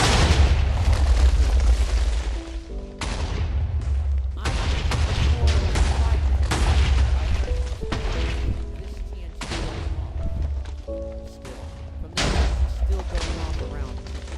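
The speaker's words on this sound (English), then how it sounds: "Launches itself in the air, and explodes a bunch of TNT." Repeated TNT explosions from a firework launched in the Minecraft Too Much TNT mod: dense, loud booms and bursts follow one another for about fourteen seconds, with brief gaps between volleys and faint tonal game sounds underneath.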